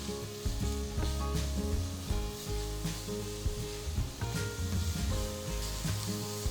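Chopped onion, green chilies and curry leaves sautéing in a pan, a steady loud sizzle and crackle with occasional stirring scrapes throughout, no talking.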